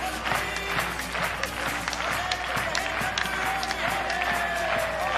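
Stadium crowd clapping and cheering at a Banana Ball baseball game, rhythmic claps over a busy roar with music and a loudspeaker voice running underneath.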